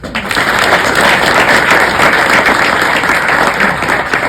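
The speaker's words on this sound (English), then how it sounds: "I'd like to welcome you with a round of applause" Studio audience giving a round of applause at a televised debate, a steady, dense burst of clapping that holds at full strength for about four seconds.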